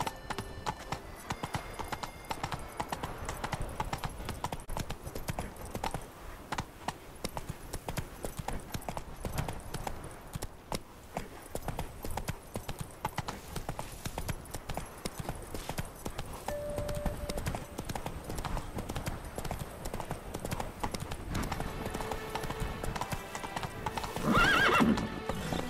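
A horse gallops and neighs in The Witcher 3 on PS4. Steady, driving hoofbeats run throughout, and a louder whinny breaks out near the end.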